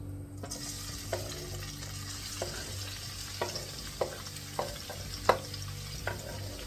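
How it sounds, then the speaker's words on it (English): Onions and peppers fry in hot oil, a soft continuous sizzle broken by a few sharp clicks and taps of a utensil against the pan, heard alone and fairly quiet. "now the oil is heated up, you can add your onions and peppers."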